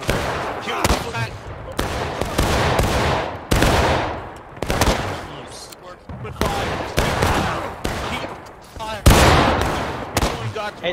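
Rifle fire in the video game War of Rights, a Civil War era infantry battle with repeated loud musket volleys and single cracks at irregular intervals, some near and some distant, as players shout orders between shots.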